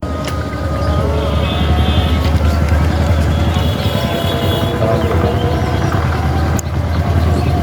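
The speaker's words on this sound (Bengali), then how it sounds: "আমরা আসার পর পরে একটা ট্রেন চলে আসছে" A loud, steady rumble of a train rolling past nearby, continuous for several seconds with a brief clank near the end.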